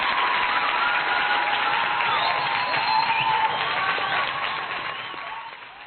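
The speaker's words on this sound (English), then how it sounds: "Hold the applause." A television studio audience applauds and cheers, a dense, sustained wave of clapping that fills the room and then tapers off toward the end.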